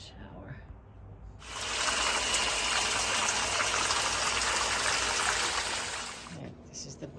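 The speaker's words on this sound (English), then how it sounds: "It's the shower." A hostel shower on the Appalachian Trail bursts on and runs as a loud, steady hiss of spraying water for about five seconds, then cuts off, with quieter room sound before and after.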